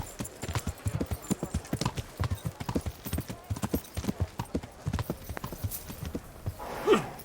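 Horse hooves clip-clop in the video game Kingdom Come Deliverance, From the Ashes, a steady close trotting rhythm that runs throughout, ending with a brief whinny.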